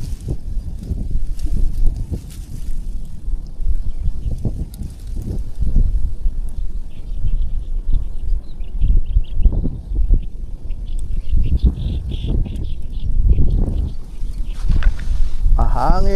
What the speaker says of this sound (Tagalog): Mahangin ang ating spot.